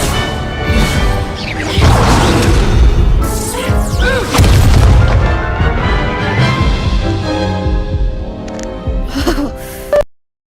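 Hogwarts Legacy combat spells, Accio, Expelliarmus and Incendio, go off in loud bursts of booms, whooshes and crashes, layered with character gasps and grunts, then cut off abruptly at the end.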